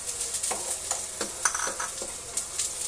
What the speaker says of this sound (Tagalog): At magigisa po tayo ng sibuyas at bawang.